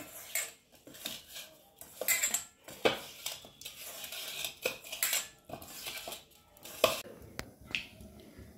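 Eggs, papaya and potatoes being mixed with salt and turmeric for an egg curry: irregular clinks, taps and scrapes of a utensil against a bowl, close and quick, with no speech.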